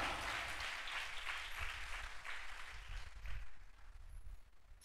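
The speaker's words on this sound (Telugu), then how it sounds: "చప్పట్లు కొట్టు, కొట్ట" A church congregation claps together in a sustained, dense burst of applause that builds and then gradually thins toward the end, with no voices over it.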